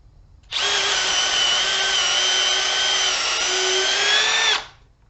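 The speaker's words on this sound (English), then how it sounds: "So the first thing we're going to do is a twist bit with the M12." A Milwaukee M12 Fuel hammer drill runs a twist bit in a single continuous, loud, even whine lasting about four seconds, starting and stopping cleanly against a quiet background with no speech.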